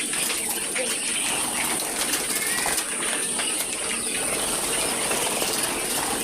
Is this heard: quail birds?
yes